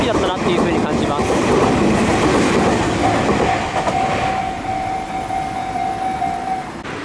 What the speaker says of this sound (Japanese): そして通過していくのは東武6万系 61609F 普通柏行き。